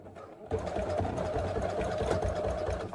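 A sewing machine stitching a tote bag, its needle chattering in a fast steady rhythm up close after a short quiet start, with no voices over it.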